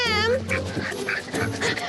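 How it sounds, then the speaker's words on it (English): A dog whimpers in a brief, high, whining cry at the very start, then people talk over the rest. "Look at that dog, it's coming that way."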